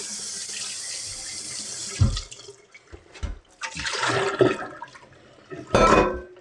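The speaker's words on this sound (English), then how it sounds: "turn your water on hot and just let it fill up with hot water for a minute" Hot water runs from a tap into a sink in bursts: a steady hiss at first, then on-off gushes and splashing as the stream changes, close and fairly loud, with no talk.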